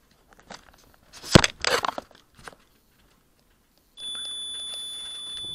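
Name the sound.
multimeter continuity test beep on carbon fiber frame edge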